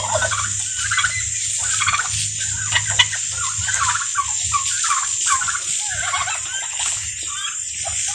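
Turkeys heard at close range: a rapid, warbling chorus of bird calls that repeats through the whole clip, with a person talking faintly in the background.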